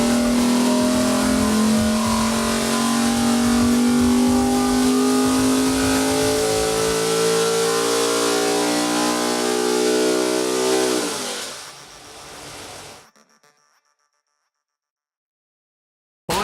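A KRE race engine runs on a workshop dyno with a loud, sustained high-rev roar whose pitch drifts slowly. It then winds down and cuts off into silence.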